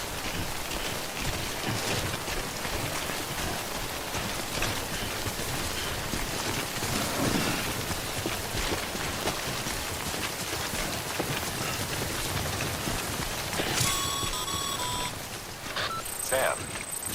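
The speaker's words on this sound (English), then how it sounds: "Don't stay out in the rain any longer than you have to." Steady timefall rain pours down throughout the Death Stranding game scene, a dense, close hiss of drops on the ground with faint electronic beeps near the end.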